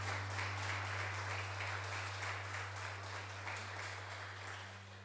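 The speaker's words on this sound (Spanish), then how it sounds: "denle un fuerte aplauso al Señor" A church congregation at a Sunday service applauds in a steady, sustained wash of clapping that holds evenly throughout, over a constant low electrical hum.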